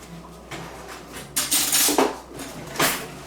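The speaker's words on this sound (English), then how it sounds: "Let me grab a knife real quick. Butter knife." A butter knife is pulled from among dishes in a kitchen, a few loud clattering clanks of metal against crockery over about three seconds, close and without talk.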